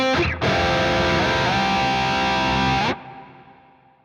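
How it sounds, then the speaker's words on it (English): A distorted electric guitar chord played through the Archetype Petrucci X plugin rings out with a darker, low-passed reverb, sustaining loudly for about two and a half seconds before cutting off into a fading tail. "Maybe we want a darker reverb sound. We could roll off the top end"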